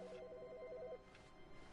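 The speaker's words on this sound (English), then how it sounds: "Why is there a phone ringing?" A telephone rings in the video game The Stanley Parable, a fairly quiet electronic double-tone trill pulsing rapidly for about a second before stopping and leaving faint room ambience.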